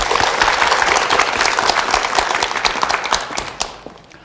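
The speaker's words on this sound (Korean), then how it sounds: "힘찬 박수로 강연 청해 듣겠습니다" Loud, dense applause from a studio audience greets a lecturer at a televised talk. The clapping is close and sustained, then fades out quickly in the final half second.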